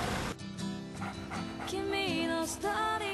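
A dog displaced by an earthquake and nuclear disaster whines and yips in short, high-pitched bursts, close by, with some voice activity in the background.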